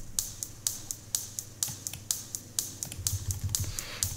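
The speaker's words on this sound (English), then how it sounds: "these little clicky hats sound like this" Crisp, clicky hi-hat ticks from a modular synth patch tap out a steady quick pattern, bright and dry, over a low muffled pulse that thickens toward the end, with no one speaking.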